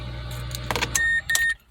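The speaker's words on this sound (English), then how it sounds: "Turning on the engine right now." A 2010 Mazda 6 four-cylinder engine running at a steady low idle, then a few clicks and a brief whirring from the cabin before the sound cuts off, close and fairly loud.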